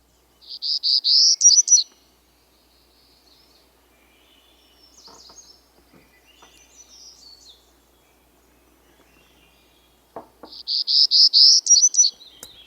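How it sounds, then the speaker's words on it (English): Two buzzy, high-pitched Townsend's warbler songs ring out, one at the start and one near the end, each a rough, patterned run of rapid notes, with faint softer calls and quiet gaps in between. "Let's listen to a Townsend's warbler."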